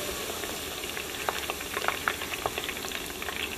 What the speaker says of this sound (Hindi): अदरक लहसुन के पेस्ट को थोड़ा सा भून लेंगे।